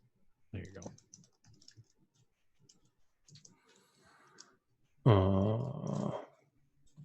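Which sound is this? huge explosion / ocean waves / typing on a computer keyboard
typing on a computer keyboard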